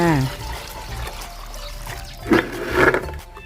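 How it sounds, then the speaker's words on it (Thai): A liquid mixture is poured into a bucket holding five litres of water, making brief splashing gushes. Someone talks over much of it. "จะเทใส่กับน้ำห้าลิตรนะคะ"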